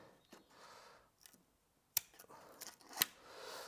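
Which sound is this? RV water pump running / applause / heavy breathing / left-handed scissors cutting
left-handed scissors cutting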